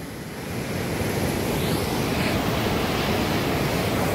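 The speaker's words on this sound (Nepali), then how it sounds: "यो सेतुवा ए सेती बगर पिकुवा खोला है" The Pikuwa river (Pikuwa Khola) at Dawan rushes in a steady, loud wash of flowing water that fills the whole stretch without pause, and no voices are heard.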